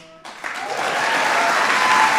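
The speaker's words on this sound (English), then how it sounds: "That's worth applauding." Applause breaks out after a short quiet lead-in, rising quickly into steady, dense clapping from a large audience honoring the 2016 NCAA champion Villanova Wildcats men's basketball team.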